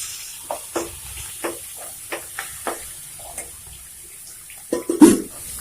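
Four chopped green chillies go into hot tempering oil with asafoetida, producing scattered sharp pops and crackles over a quiet background that build into a louder spattering sizzle near the end.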